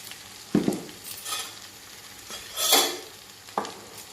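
Chilli powder and spices stirred in a pan, a spoon scraping in three distinct strokes with a soft sizzle running underneath, close and fairly quiet.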